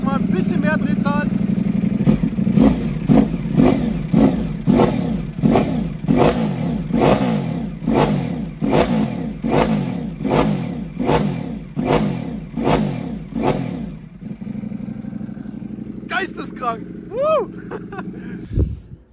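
A Ducati Panigale V4 (2024) with a customised exhaust system, warmed up and revved repeatedly: a dozen loud, evenly spaced throttle blips in quick rhythm, close up, then the engine settles to idle with a few brief high sounds near the end.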